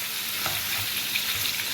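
Potatoes with salt and turmeric sizzle in a frying pan while being stirred, an even, dense hiss with soft scraping bumps from the stirring, close by and without talk.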